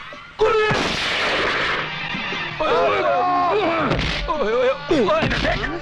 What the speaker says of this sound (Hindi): तुझे मैं बताता हूँ गोलियां कैसे चलती है, आदमी कैसे मरता है।